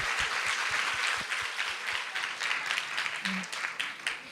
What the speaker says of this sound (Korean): 행복한 공연을 준비해준 우리 선생님들과 그루터기들에게 박수 한번 보내드리겠습니다.